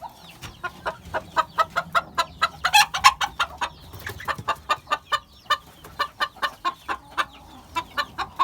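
Chicks peep in rapid, regular high cheeps close by in a coop, with soft clucking from hens underneath and no talking.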